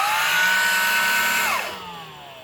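A Black+Decker Powerseries Extreme BSV2020G 20-volt cordless vacuum cleaner runs with a loud, steady motor whine, then spins down in pitch after about a second and a half, fading to a lower hum.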